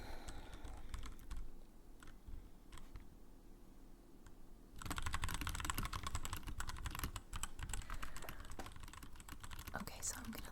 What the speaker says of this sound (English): I'm going to leave the typing play under this